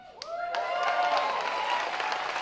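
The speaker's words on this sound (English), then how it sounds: "Let's give another round of applause for the terrific performance from Tiffany." An audience breaks into applause after a live performance at an event in Vinita, Oklahoma, a sustained wash of clapping that swells quickly and holds steady at moderate loudness.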